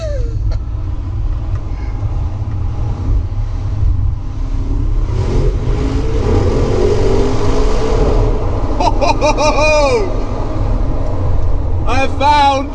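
A new Bentley's engine accelerates, its note swelling and rising in pitch, with people talking over it and brief higher whines near the end.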